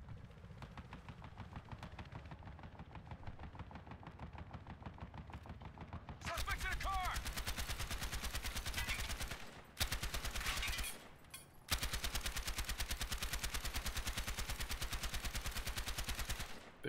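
Sustained automatic gunfire raining down from above in Battlefield Hardline, a dense rapid rattle that grows louder midway, breaks off briefly twice, then resumes at full intensity.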